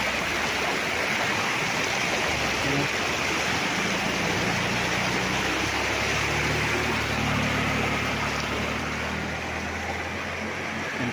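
Cold, clear river running beside a farm lot in Real, Quezon, a steady broadband rush of flowing water filling the whole stretch with no talk, a faint low rumble rising partway through.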